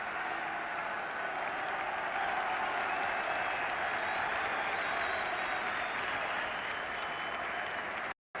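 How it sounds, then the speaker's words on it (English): A football stadium crowd at a Northern Ireland versus England match roars and cheers steadily for a lone troublemaker in the stands, a dense, loud, continuous wash of noise that cuts off abruptly at the end. "the cheer is not for the football, it's for a troublemaker, a solitary troublemaker in the crowd"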